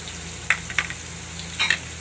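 Asafoetida hits hot oil in a pan for a spring onion and sev curry, with a steady hiss broken by a few sharp crackles and pops.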